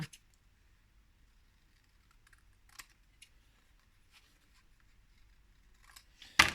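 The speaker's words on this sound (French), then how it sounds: "Je vais découper les fleurs, là." Scissors snip out paper flowers for a mini scrapbook album, giving faint, sparse clicks and cuts in a quiet room, ending with a louder rustle.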